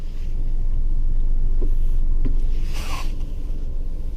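A car engine rumbles steadily and loudly inside the cabin as the driver eases lightly onto the accelerator during a driving lesson, with a low continuous drone, a couple of faint clicks and a brief rushing swell near the end.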